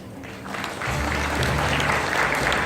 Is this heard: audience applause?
yes